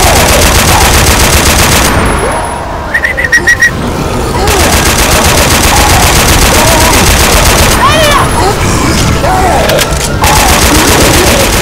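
Mounted machine gun in a zombie-horde video game, firing in sustained dense bursts up close, with a short lull midway, mixed with game noise and voices talking over it.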